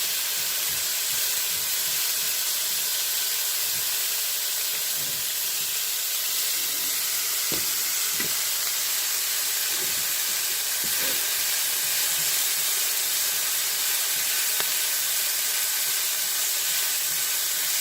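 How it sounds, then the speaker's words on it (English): Steady, loud broadband sizzling of peppers, onion and garlic sautéing in a hot pan, a continuous hiss with occasional soft pops and crackles, close up and with no voices. "You hear that sizzle?"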